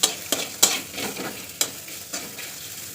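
Sliced bitter gourd (karela) sizzles in hot oil in a pan, with a steady crackling fry broken by several sharp scrapes and clinks as a utensil stirs the pieces at close range.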